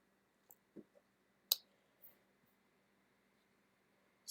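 Several sharp computer mouse clicks, sparse and irregular, while someone opens a PDF of a journal article. The clicks are close and fairly quiet over a faint hum, with one crisper, louder click in the middle.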